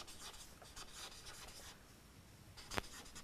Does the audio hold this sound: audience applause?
no